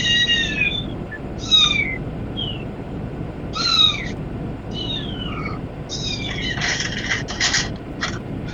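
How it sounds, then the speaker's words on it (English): Several cats meow in turn, short high calls overlapping and repeating, fairly close, over a low background hum. "you get to hear 4 kitties"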